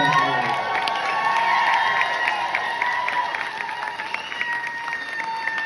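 An audience at a Scarefest Weekend Q&A event, giving loud, sustained cheering, screaming and applause that fills the room and slowly fades.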